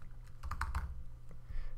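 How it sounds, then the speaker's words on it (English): Computer keyboard typing code for a Python game program, a quick run of close key clicks with a brief pause before a few more presses, alone with no voices. "I'm typing a couple lines of code and then I'm testing it"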